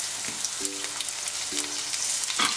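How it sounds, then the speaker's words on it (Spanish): Onion frying gently in a pan over low heat, giving a soft, steady sizzle with faint crackles, along with a couple of brief tonal clinks from the cookware. "vamos haciendo la cebolla. La ponemos a fuego suave para que se poche"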